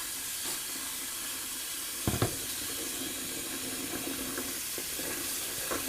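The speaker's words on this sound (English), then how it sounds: "In the meantime, I'll rinse out my bowl." Hot tap water running into a sink while a shaving bowl is rinsed, a soft steady hiss of flowing water with a couple of brief clinks and splashes, fairly quiet and with no voices.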